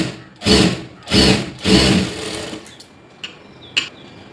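Stitching a blouse, a sewing machine runs in three short, close bursts of rapid whirring, followed by quieter clicks and handling with no talk.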